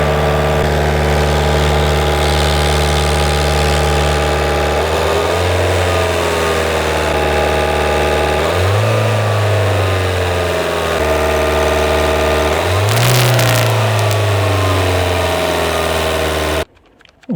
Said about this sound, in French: La première chose à faire, c'est de démarrer la voiture et de la tenir à peu près à 2500 tours.